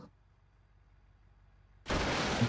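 In the BeamNG Drive driving game, a missile explosion bursts in suddenly after near-silence, a loud broadband blast that roars on to the end.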